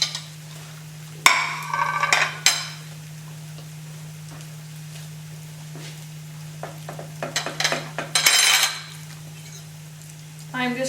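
A vegan cinnamon pancake cooks in a frying pan under a steady low hum, with intermittent scraping, clattering utensil knocks and brief sizzling bursts nearby.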